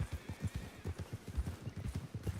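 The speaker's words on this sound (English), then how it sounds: "You want to try to catch a wild horse?" A wild horse in a video game trots in a steady clip-clop rhythm of hooves, quiet and close, with no clear neigh standing out.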